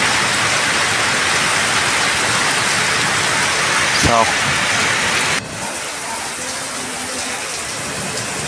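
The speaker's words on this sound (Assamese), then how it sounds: "বৰষুণ তামাম দি আছে" Heavy rain pours down at Kumarakom lake in Kerala, a loud, dense, continuous hiss that drops slightly partway through, with a brief spoken word and a short rising tone heard over it.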